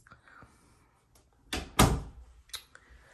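An apartment door is opened with a soft click and a sharp thunk of the latch and frame, followed by lighter knocks, close by in a quiet room.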